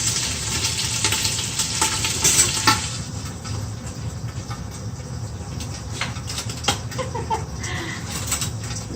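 Meat browning in a hot pan for Filipino sinigang gives a steady close sizzle and crackle with occasional scraping stirs, continuous throughout.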